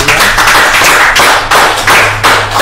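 Clapping from an audience at a school event in Indonesia, a loud, steady patter of many hands lasting the whole moment, with faint voices underneath.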